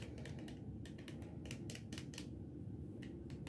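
Light, irregular clicking and rattling of loose watercolor half pans in a small metal tin, over a steady low hum, with no voices.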